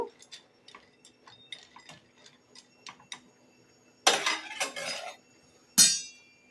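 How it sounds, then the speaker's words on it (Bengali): Pasta stirred in a pot of boiling water, light rhythmic clicks of a utensil tapping the pot, then two louder bursts of clattering and splashing metal. "ভালো করে নেড়ে চেড়ে পাস্তাটাকে সেদ্ধ করে নেব।"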